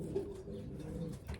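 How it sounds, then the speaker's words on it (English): A racing pigeon cooing at the loft after arriving from a race, soft low throaty coos repeating close by and faint, with no talk. "this was the first bird that arrived on the loft."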